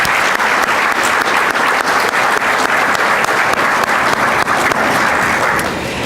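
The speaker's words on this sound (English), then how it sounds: "So just like to give you guys a round of applause" Audience at the 2018 Kiski Hall of Fame Ceremony clapping: dense, sustained applause from a large crowd filling the room at steady loudness, tapering slightly at the end.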